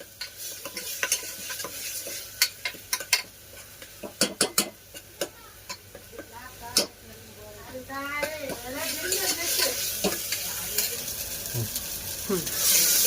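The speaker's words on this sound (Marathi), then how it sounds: "त्याचा वास थोडा जाईपर्यंत चांगलं परतून घ्यायचं." Sautéing in a pan for a homemade chicken feet soup, with quick scattered clacks of a spoon on the pan over a low sizzle, easing into a steadier, rising frying hiss near the end.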